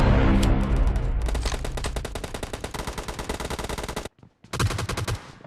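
Rapid automatic gunfire in the battle game BGMI, loud and continuous bursts that stop abruptly near the end, then resume after a brief gap.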